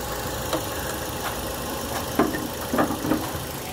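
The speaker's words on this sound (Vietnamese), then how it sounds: "máy lổ đây bà con này, rất là êm này, không có hiện tượng rung giật gì cả nhé" A 2007 Toyota Vios with a manual gearbox idles steadily with a low, even hum from close by, with a few faint ticks and small bumps over the constant engine note.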